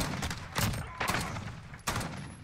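Gunfire in the Call of Duty Modern Warfare video game sounds in three sharp bursts, each a loud crack with a short decaying tail, spaced about half a second to a second apart, with no talk.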